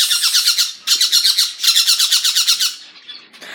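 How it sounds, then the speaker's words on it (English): A flock of pet finches chirps loudly and close by in rapid, repeated bursts of bright squawking calls with short pauses between them. "Here's all my finches."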